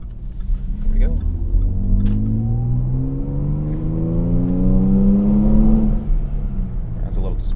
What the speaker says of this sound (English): We're gonna get to accelerate through this overpass.